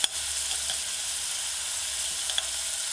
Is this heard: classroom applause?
no